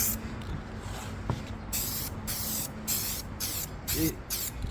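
Repeated short hissing bursts of a spray paint can outdoors on a car head unit cover, several quick sprays in a row, close and fairly loud over a quiet background.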